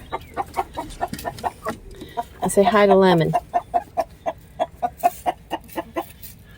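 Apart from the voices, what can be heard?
buff Orpington chickens clucking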